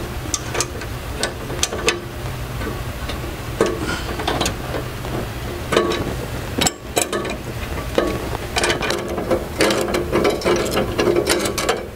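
A ratchet on a 12-inch extension clicks in quick bursts of sharp ticks during metal fabrication work in a shop, close and repeated with short pauses between strokes.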